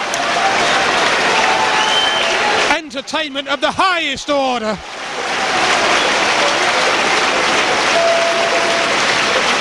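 A football crowd at Grimsby Town gives a standing ovation after a 6-5 match against Burnley, loud sustained applause broken midway by a brief spoken line from a commentator before the clapping roars back.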